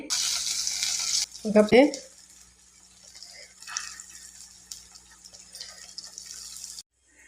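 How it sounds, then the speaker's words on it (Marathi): Paneer hisses as it fries in a pan, a loud sizzle for the first second, then a clatter of handling before a softer, intermittent crackle carries on close by, with no talking. "पनीर मी फ्राय करून घेते"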